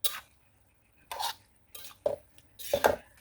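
Mustard greens being stir-fried for mee goreng in a pan: a few separate bursts of utensil scraping and clattering against the metal, close and fairly quiet, with short silent gaps between strokes.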